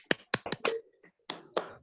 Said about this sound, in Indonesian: Tepuk tangan untuk Probo dan Nurul.